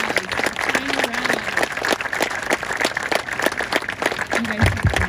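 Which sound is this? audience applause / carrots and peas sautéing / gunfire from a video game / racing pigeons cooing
audience applause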